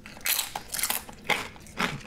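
Taco Bell nacho chips, airy and very crunchy, crackle sharply as they are bitten near the mic, four distinct crunches spaced about half a second apart with no speech.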